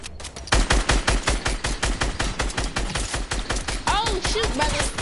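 Rapid automatic gunfire from a video game shooter rattles loudly and continuously in dense bursts, with brief electronic tones near the end.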